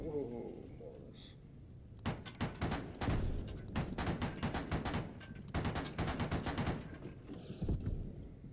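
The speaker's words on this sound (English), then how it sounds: "Oh no, that's mortar, mortar fire, mortar fire." Mortar and gunfire in the military shooter Squad, rapid bursts of loud cracking blasts in clusters with heavy low booms, an excited voice speaking over the early part.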